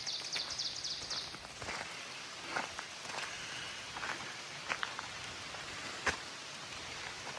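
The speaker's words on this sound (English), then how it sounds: "and it's raining." Soft, steady rain patters on surfaces with occasional sharper drips and light rustling, fairly quiet and continuous.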